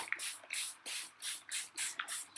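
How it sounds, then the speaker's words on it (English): Aerosol spray paint hitting a cardboard box in several short hissing bursts, about half a second each with brief gaps, close and fairly quiet. "I'm going to spray the box."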